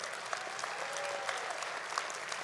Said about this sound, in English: you're hearing people clap